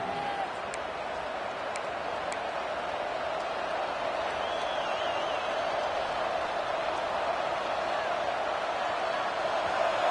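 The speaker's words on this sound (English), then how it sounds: "They've got them pinned back, and they're trying to rattle their eardrums. Listen to this crowd." A stadium crowd roars in College Football 26, Miami Hurricanes game, a dense steady wash of noise held at constant level for the full length, with faint whistling and a few sharp clacks on top.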